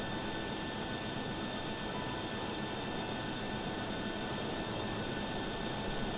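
Steady broadband jet engine roar from a Boeing 737 during pushback at Caracas in Microsoft Flight Simulator, a constant droning rumble with no breaks, moderately loud and alone.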